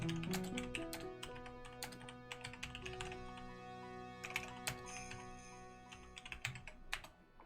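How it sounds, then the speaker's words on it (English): Fast typing on a computer keyboard during a Phoenix Wright game session, a dense irregular patter of key clicks close by, with bursts of louder strokes and brief pauses, steady throughout and with no voices. "I'm typing this in Discord real quick in case I'm right"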